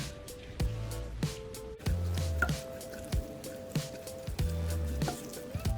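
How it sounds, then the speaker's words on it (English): Raw meat and uncooked rice mixture being stirred for stuffed cabbage rolls, giving wet, squelching squishes in an uneven rhythm at close range, with small drips between them. "Now we're gonna give this a good stir around."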